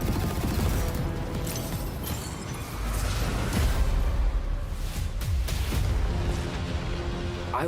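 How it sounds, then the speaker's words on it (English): Dense, continuous battlefield din from a video game trailer, with sustained machine gun fire mixed with booms and whooshes, loud and unbroken throughout with no clear separation between shots. "Straight up just a machine gun gauntlet."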